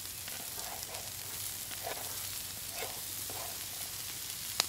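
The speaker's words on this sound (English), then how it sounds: "I'm just gonna mix them all right here on the flat top" Celery, onions, mushrooms and carrots frying on a flat top griddle, giving a steady close sizzle with periodic stirring scrapes and a sharp click at the end.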